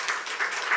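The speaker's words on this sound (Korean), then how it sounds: "한 박수로 한번 환영하겠습니다" An audience applauds to welcome a fifth-grade boy at a Sunday church service, a steady crowd clapping heard up close with no pauses.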